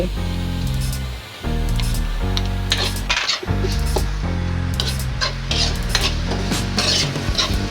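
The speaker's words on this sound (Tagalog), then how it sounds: "igisa na natin tong ating miso" Miso being sautéed in a pot, with loud clanking of a metal utensil against the pot and a light sizzle running underneath, alongside repeated scraping strokes.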